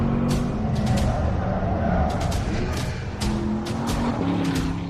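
A Porsche Panamera driven hard on the Nordschleife racetrack, engine roaring steadily up close with repeated sharp bursts of tire squeal through the corners.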